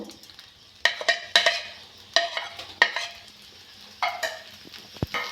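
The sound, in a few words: vermicelli (semai) frying in ghee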